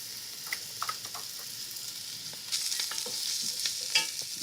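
Chopped carrots and celery sizzle softly in a pan with salt, while a spoon scrapes and stirs them in short, irregular strokes; the frying grows a little louder halfway through.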